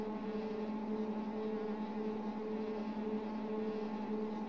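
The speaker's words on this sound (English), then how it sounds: "Revs up." Steady engine drone of a 450 motocross bike in the MX Bikes racing game with sound mods, holding a constant pitch with a faint pulsing rhythm, fairly quiet and alone with no talk.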